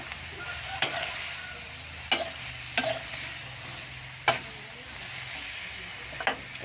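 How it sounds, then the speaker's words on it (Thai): Sweet and sour stir-fry sizzles softly in a pan as a cornstarch slurry goes in, with a low, steady frying hiss broken by several sharp scraping stirs spaced a second or so apart. "ผสมแป้งข้าวโพดจากน้อยนะครับก็เทลงไป"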